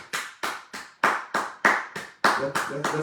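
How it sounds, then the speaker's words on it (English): An audience at a union gathering claps in a slow, steady rhythm, about ten sharp, even beats sounding close and clear, with faint voices mixed in near the end. "Let's applaud them."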